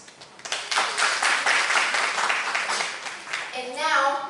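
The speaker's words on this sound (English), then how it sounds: "Let's give ourselves a big round of applause." Audience applause at a university panel discussion, a dense wash of many hands clapping at once that swells quickly and holds steady, with voices rising over it near the end.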